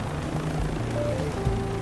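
Steady whirring helicopter rotor and turbine drone under applied collective in Microsoft Flight Simulator, continuous and even with a faint tonal hum and no talking.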